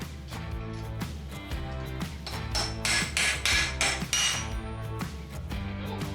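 A hammer taps a part out of a motorcycle engine's bottom end in a workshop, a series of ringing metallic strikes in uneven bursts, close and fairly loud, with no talking.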